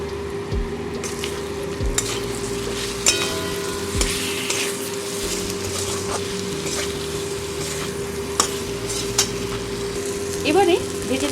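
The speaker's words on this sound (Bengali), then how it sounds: "এবারে এই সমস্ত উপকরণ আমি এর সঙ্গে ভালো করে মিশিয়ে নেব।" A spoon stirs chilli powder and Kashmiri red chilli powder into a sizzling pan of fried potatoes for a chicken curry with capsicum, steady frying hiss under irregular scraping clatter.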